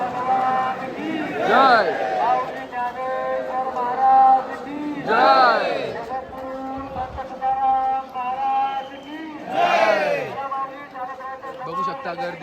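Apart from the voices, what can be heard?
crowd of pilgrims near Pandharpur temple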